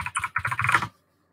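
Quick burst of typing on a computer keyboard, about a dozen rapid close key clicks over under a second before falling silent.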